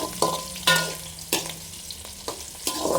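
Shallots and dried red chillies stir-fry in hot oil, with a soft steady sizzle broken by repeated sharp spatula scrapes and taps against the pan, heard up close and without any talk.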